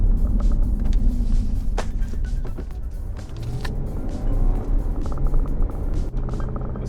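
A Lexus IS250 rolls slowly through a turnaround on a road, a low engine rumble and tyre noise close by, with a few brief knocks and a mild swell in the middle.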